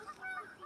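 Geese honking outdoors, a few faint, distant nasal calls overlapping across a short moment.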